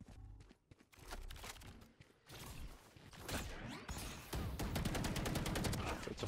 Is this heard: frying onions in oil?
no